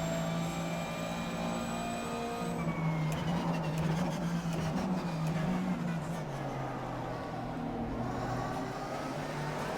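A Porsche 911 GT3 Cup race car engine in iRacing, racing at Sebring, revs steadily as it pulls under acceleration, its tone climbing and shifting, alongside a constant droning whine and no voices.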